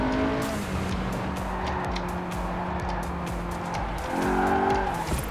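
Lamborghini Aventador V12 in Forza Horizon 4 heard from the cockpit, a loud steady engine drone with shifting pitch, squealing tires and a brief rise near the end, with no talk.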